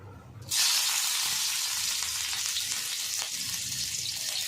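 Green chilies hitting hot ghee in a pan, a sudden loud sizzle that bursts in after a brief quiet moment and keeps crackling steadily, close and alone.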